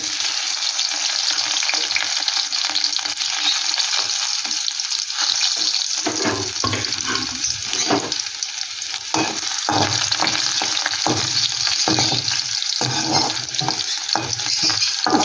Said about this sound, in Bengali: রসুনটা একটু ভালো করে একটু ভেজে নেব একটু লাল লাল করে